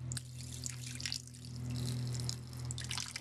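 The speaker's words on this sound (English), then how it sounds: "A way of hydrating your turtle is to pour some water over the top of them" Water poured over a box turtle, a steady splashing, trickling stream running throughout, loud and close, with no one speaking.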